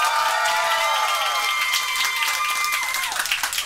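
Comedy club audience at a roast battle breaks into steady, dense applause mixed with crowd noise and a few cheers, sustained throughout at moderate loudness.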